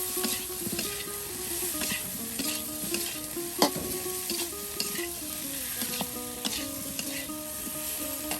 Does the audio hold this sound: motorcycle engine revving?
no